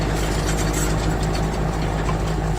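A tractor engine pulling a three-leg subsoiler through vegetative cover drones steadily and loudly at close range, a continuous low mechanical rumble with no voices.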